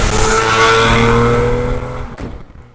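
BMW 850 CSi with its V12 engine driving by, loud and close: a high-pitched engine roar that holds steady, then fades away as the car recedes.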